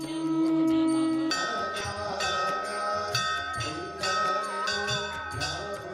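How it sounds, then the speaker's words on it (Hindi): Temple bells and gongs ringing at the reopened Shirdi Sai Baba temple: repeated metallic strikes and sustained ringing tones overlap in a steady, fairly loud clangour with no voices. "घंटे घड़ियाल गूंज उठे।"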